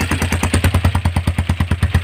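A Ranger 150 motorcycle engine with a leaking exhaust runs close by with a loud, steady, rapid chuffing and popping, each beat sharp and evenly spaced.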